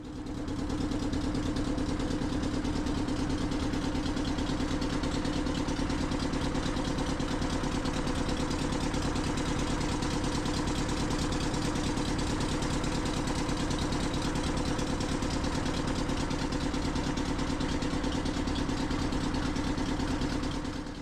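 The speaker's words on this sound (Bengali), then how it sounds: "এবার আমি একটি মোটর চালিত নৌকা করে চললাম গোসাবা আইল্যান্ডের দিকে" Motorboat engine running steadily on a crossing toward Gosaba island in the Sundarbans, a loud continuous mid-pitched drone with rapid rhythmic throb, constant from start to finish with no voices.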